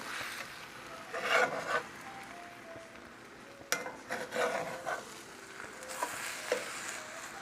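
Egg mixture with queso fresco topping nearby is stirred around a frying pan, giving soft scraping and light sizzling in a few louder bursts against a quiet, steady background.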